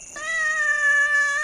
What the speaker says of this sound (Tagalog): Ay, may pusa!